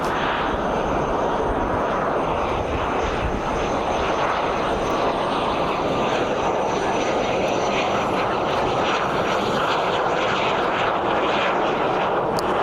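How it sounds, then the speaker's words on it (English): A Cirrus jet passes at Columbus John Glenn International Airport, a loud, steady broadband engine roar that holds unbroken for about twelve seconds. "It looks like a Cirrus jet."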